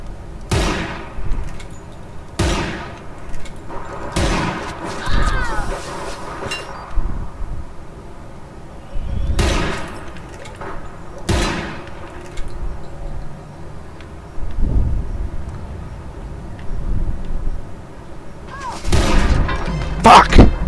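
Loud gunshots in APB Reloaded ring out in repeated sharp bursts, some spaced seconds apart and others clustered, close and punchy over a quiet game background with occasional speech.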